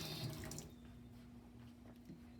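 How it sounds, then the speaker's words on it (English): Water trickles and splashes briefly as it is poured into paint, then a low steady hum carries on with faint liquid movement of stirring underneath. "A little bit of water, put it in, give it a stir."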